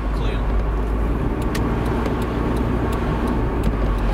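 A Toyota MR2 MK2 automatic accelerates in power mode, its engine a loud, steady low drone heard from inside the car, with faint ticking over the top.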